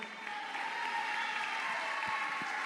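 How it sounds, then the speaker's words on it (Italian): An audience at an evening choral event in Ollolai applauds the performing artists with steady, distant-sounding clapping that blends into a continuous wash at moderate volume. "tutti un applauso"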